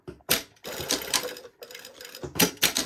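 A sewing machine stitches along a seam on a white summer sweater, running in short clattering bursts with brief pauses between them, close and mechanical with rapid needle rattle.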